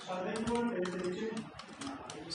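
Keys clatter in quick irregular bursts on a computer keyboard while C++ code is typed, close and steady, with a voice talking faintly beneath.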